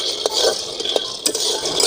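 Peanuts dry-roasting in a hot pan for ragi sweet paniyaram, giving a steady close crackle and scrape with scattered sharp pops and ticks throughout, no voices.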